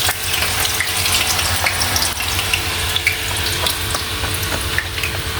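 Dried potatoes fry in hot oil in a pan for a salad, giving a steady, dense crackling sizzle that stays loud and even throughout, with no talking.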